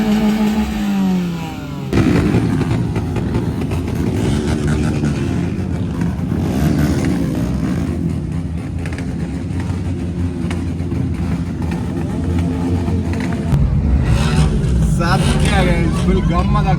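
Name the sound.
vehicle engines revving at an auto carnival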